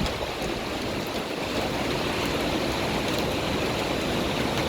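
Floodwater rushes along a road at Ketkipada in Dahisar, turning the street into a river. A loud, steady, unbroken roar of flowing water fills the whole stretch with no voices.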